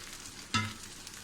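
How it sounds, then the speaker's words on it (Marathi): Malvani rice-batter ghavane cooking on a griddle over medium heat, with a soft steady sizzle and a brief sharper hiss as batter meets the hot surface. "आता आपल्याला हे छानपैकी बाजूने कडा सुटेपर्यंत त्याला तव्यावर असं शिजत ठेवायचं आहे"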